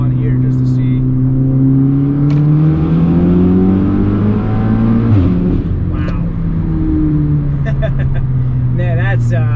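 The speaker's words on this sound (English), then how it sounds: "I'm gonna do a little third gear roll on here just to see." A big-turbo Audi S3 running E85 pulls hard in third gear from inside the cabin, its engine note climbing steadily and loudly through the rev range, with a brief voice over the drone.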